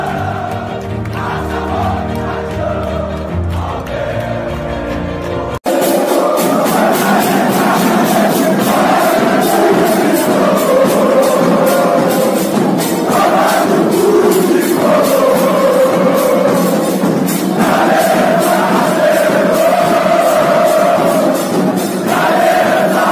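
A large crowd of Flamengo football fans sings taunting chants aimed at Fluminense, a loud, continuous mass of voices with rhythmic clapping or drumming, after a short musical intro.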